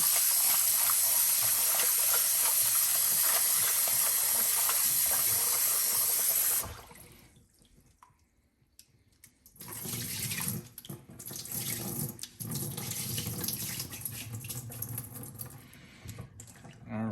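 Tap water gushes steadily into a kitchen sink while rinsing beef for pepper steak, a loud continuous hiss that cuts off, then returns as uneven splashing and pouring.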